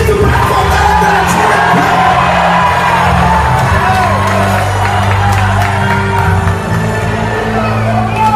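A church congregation shouting, whooping and cheering together, a dense, loud and continuous roar of many voices filling the hall throughout.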